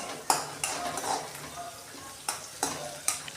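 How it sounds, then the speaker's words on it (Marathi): Cumin and green chillies sautéing in a pan for sabudana khichdi, with a steady faint sizzle under repeated clinks and scrapes of a spoon stirring against the metal, heard close without voices. "थोडं जिरं टाकणार आहे आणि याला चांगलं परतून घेणार आहे"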